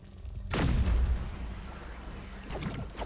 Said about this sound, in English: That was the same explosion effect.